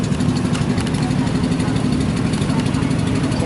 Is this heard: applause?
no